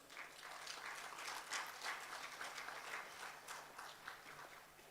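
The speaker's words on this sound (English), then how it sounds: "nous vous raccompagnons également sous nos applaudissements" Applause from a conference audience sending off a speaker at the close of a talk, a steady spread of many hands clapping, soft and somewhat distant, with no voices over it.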